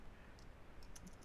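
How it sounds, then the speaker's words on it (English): Typing on a computer keyboard while writing a blog post, a short run of light, quick key clicks close by and fairly quiet over a steady background hum. "I'm going to type"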